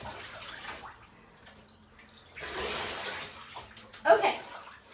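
Water is poured over a wet dog's head and chest during a bath, a splashing gush in the middle and a short burst of splashes near the end, with someone talking softly around it.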